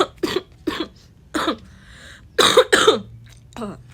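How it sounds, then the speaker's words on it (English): A person with a bad cough coughs repeatedly, about seven sharp, close, loud bursts in an irregular rhythm with brief pauses between them, and no other sounds. "I have a bad cough"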